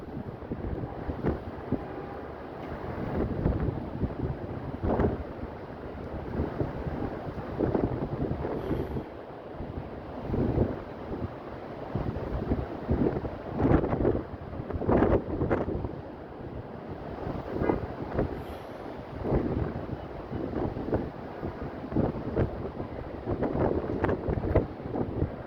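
Strong wind roars and gusts in uneven surges during heavy rain in Dubai, buffeting the phone microphone loudly and continuously throughout, with no speech.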